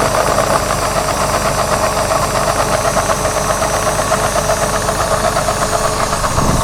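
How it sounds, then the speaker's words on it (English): A small model fuel pump with a reduction gear works in a ship's engine room diorama, giving a steady, fast mechanical chugging and whirring hum at close range that cuts off near the end. "I like the speed of this little fuel pump here. It's very realistic speed with a reduction gear."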